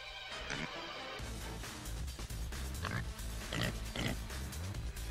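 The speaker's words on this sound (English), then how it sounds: "Run, Mr. Piggy, run" A pig oinks and grunts in a video game over a loud, busy backdrop of sound, a few short snorting calls standing out close and clear.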